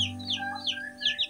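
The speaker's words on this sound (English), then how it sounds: "When you hear this hen answering these chicks, just this hen will adopt these chicks." A hen answers hatchery chicks with low, close clucks, while the chicks' high, rapid peeping chirps repeat over the top in quick sweeps.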